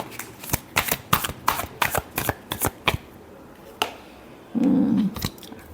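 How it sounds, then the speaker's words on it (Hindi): Tarot cards are shuffled close by in quick crisp riffles and flicks, followed by a short burst of card rustling, with no talk over them. "Last shuffle."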